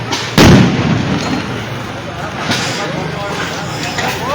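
A sharp, loud bomb blast bursts out early during street clashes, then a rumbling, noisy crowd scene carries on with a fainter second bang later.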